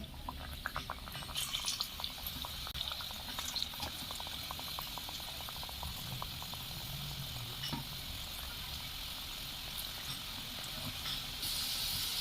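Saptapuri pitha fry in hot white oil in a wok on a gas stove, a soft steady bubbling sizzle with faint crackles, fairly quiet and without speech.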